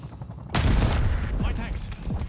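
Gunfire in Call of Duty: Black Ops 6 erupts suddenly into loud, sustained rapid shooting, a dense burst of automatic fire continuing to the end, with voices speaking amid the battle.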